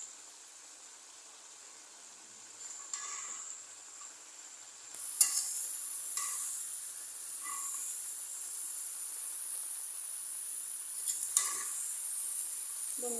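Pointed gourd and snake gourd frying in a pan with a soft, steady sizzle, broken by a few clearer bursts of hissing and light stirring scrapes, fairly quiet and with no talk.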